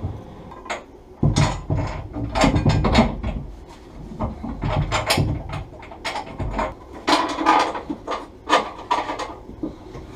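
A car seat being fitted and bolted into a Mustang drift build, with steady scraping, rubbing and clunking of the seat and its hardware, close up and continuous, with no talk.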